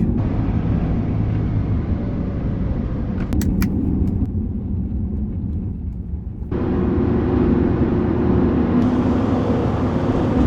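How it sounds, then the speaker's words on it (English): Road traffic rumbles steadily from inside a moving car, a constant low road and engine drone with a brief dip as passing vehicles and tire noise swell and fade. "Ah, traffic."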